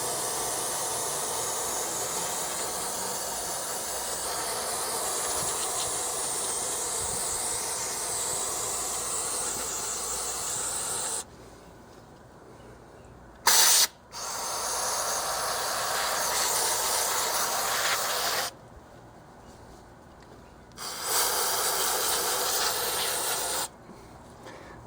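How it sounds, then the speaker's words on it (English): Aerosol brake cleaner sprayed onto the drum brake of a 2011 Toyota Yaris, long loud hissing bursts interrupted by short pauses, close and forceful with no talk. "the brake cleaner shoots out at about 100 miles an hour"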